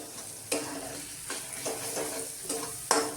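Masala paste roasting in a pan for an eggplant dish, a soft continuous sizzle broken by a few sharper scraping stirs, close and moderately quiet with no voices.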